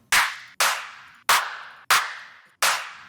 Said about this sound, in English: It's actually really nice claps.